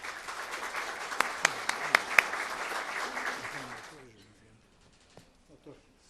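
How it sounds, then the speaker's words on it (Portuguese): Audience in a hall breaks into sustained applause to welcome a speaker at a criminal law talk, dense clapping with a few sharp louder claps, fading out after about four seconds into quiet with faint voices. "Por favor, recebam com uma salva de palmas"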